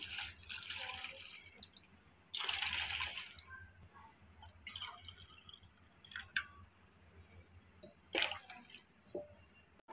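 Water poured from a cup into a cooking pot holding jaggery, heard as intermittent splashing and dripping bursts, close and moderately quiet, with no talking.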